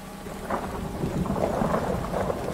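Rain pours down in Fallout 4 during a storm, a continuous dense wash of noise with a low thunder rumble underneath, fairly loud and steady throughout.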